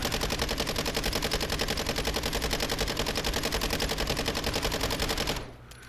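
Sustained rapid automatic fire from a Minibak submachine gun shot from the hip in a video game, a loud, dense stream of shots running nearly six seconds before cutting off abruptly into a quieter tail.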